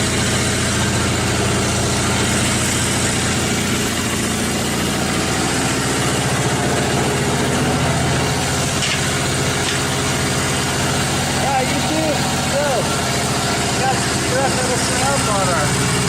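A Lincoln Electric Weldanpower welder generator's engine idles and warms up with a constant, steady drone throughout, with some talk faintly over it.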